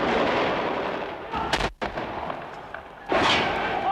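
Gunfire erupts during a violent street riot in Albania in 1997, with loud bursts of shots and sharp cracks amid constant crowd noise, close by, including a sudden near blast and a louder volley toward the end.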